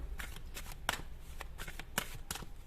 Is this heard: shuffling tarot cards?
yes